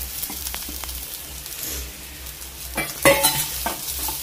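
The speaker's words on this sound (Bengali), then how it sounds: "পুরো কষানো হয়ে গেছে এবার সবিনটা দিয়ে আরেকটু কষাবো" Soybean chunks and red lentils being stirred and fried in a pan: close, scraping strokes over a steady sizzle, with a few louder clinks of the spoon near the end.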